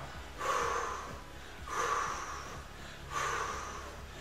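Three slow, deep breaths drawn in and let out during a gentle seniors' exercise routine, near and fairly soft, with pauses between them and no talking.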